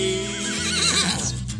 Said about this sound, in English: Slap that CringePony's butt till it